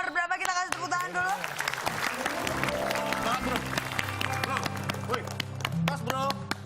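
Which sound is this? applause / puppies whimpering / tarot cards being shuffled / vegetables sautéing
applause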